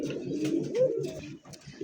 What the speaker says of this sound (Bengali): এই মুহূর্তে দেখতে পাচ্ছেন কাশ্মীরি একটা রেসার কবুতর